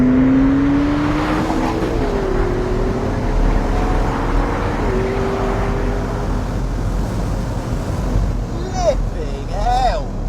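McLaren 650S Spider accelerating hard in 4th gear from about 2,000 rpm, with a loud, close engine drone whose pitch climbs steadily, followed near the end by a couple of sharp whistling chirps.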